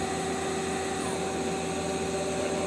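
Mazak Quick Turn Nexus 200MS CNC lathe from 2006, its sub spindle turning at speed: a steady machine whine with constant tonal hum lines over broadband noise, running continuously and fairly close with no talk.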